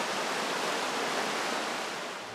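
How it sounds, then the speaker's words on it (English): Water of the Credit River rushing over shallow rocky riffles, a steady close broadband wash of flowing water with no talk, easing slightly at the end. "The sound of the water over the riffles"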